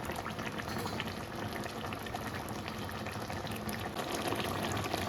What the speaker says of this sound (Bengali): আলু সেদ্ধ হয়ে গেছে তাও একটু চিংড়ি মাছ দিয়ে ভালো করে ফুটিয়ে নেবো